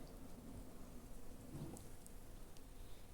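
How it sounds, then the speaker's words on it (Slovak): Rain begins to fall, a faint, steady hiss of drops with a low rumble beneath and a few sharper patters near the end, heard from some distance with no talking. "začala pršať"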